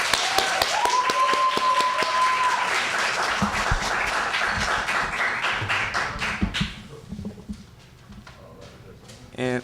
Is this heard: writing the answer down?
no